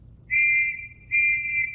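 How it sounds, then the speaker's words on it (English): A warning whistle from World War I trenches sounds in two shrill, steady blasts, loud and clear against a faint low rumble, with a short gap between them. "we'll blow a whistle first to warn you so that you have time to take cover"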